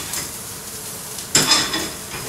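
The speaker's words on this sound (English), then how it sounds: "I'm going to take these little shallots and I'm just going to saute them off" Small shallots sauté in oil in a pan, giving a soft sizzle with scraping stir noises and a sharper burst of clattering sizzle partway through.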